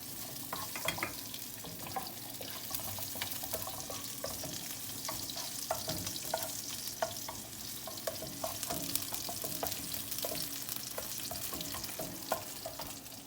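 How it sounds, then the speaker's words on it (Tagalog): Tilapia and garlic fry in a pan with a dense, continuous crackling sizzle and occasional scraping stirs, steady and close throughout with no talking. "Pinirito muna namin yung tilapia. Tapos bawang."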